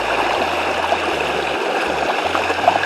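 Water spills down a small natural waterfall into a stream, a steady close broadband rush and gurgle that holds constant throughout, with no voices present.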